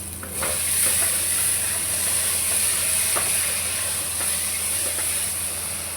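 Steady bubbling and hissing of liquid boiling in a pot, continuous and close, with occasional faint clicks and knocks in the background.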